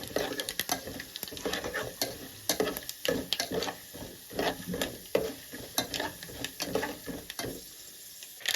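Mustard seeds, cumin and lentils sputter and crackle in hot oil for a tempering. Steady sizzling runs throughout with frequent sharp pops and some stirring scrapes, all close by, with no voices.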